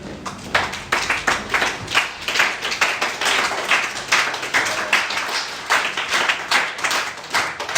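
A church congregation applauding during a sermon, with steady, rhythmic clapping from many hands that stays loud and continuous throughout.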